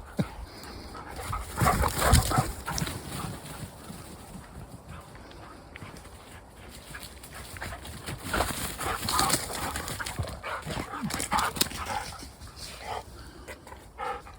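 Two bored dogs outdoors, eager to get moving, make restless noises: scattered scuffling, panting and a few short yelps rising and falling over a faint, fairly quiet outdoor background.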